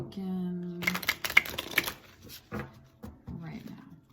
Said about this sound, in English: And I'm shuffling 2 decks.